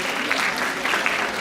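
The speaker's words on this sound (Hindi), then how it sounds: "Gen Alpha के लिए ताली बजाओ please everyone" Audience applause at a conference conclave, a sustained patter of many hands clapping at even loudness with a few sharper individual claps standing out, no speech over it.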